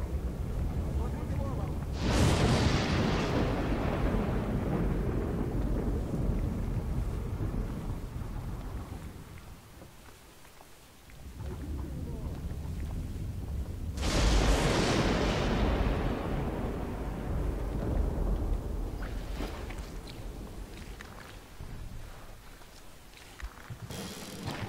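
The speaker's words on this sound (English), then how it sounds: "You can hear me over the bombs." Booming bomb blasts in the video game Sniper Elite 2, a mission at the Kopenick launch site: two big roaring explosions a few seconds apart, each decaying into a long rumble, with a voice talking over them.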